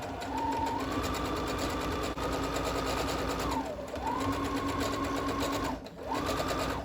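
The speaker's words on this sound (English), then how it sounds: "I'm going to sew along the bottom of the bag now." A sewing machine stitches along the bottom of a fabric tote bag with French seams, giving a loud, steady motor whir that speeds up and slows down and briefly stops twice.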